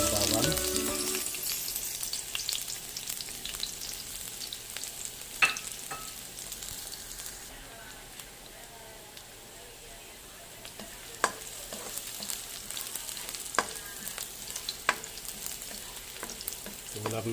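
Garlic sautés in cooking oil in a pan with a soft, continuous sizzle close by, broken by a few sharp clinks of a utensil against the pan.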